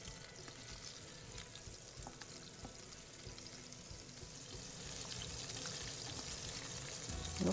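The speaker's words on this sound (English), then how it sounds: "Look at that fish sizzling." A sea bass fillet fries in an oil-filled pan with a continuous crackling sizzle that swells slightly louder toward the end, heard alone.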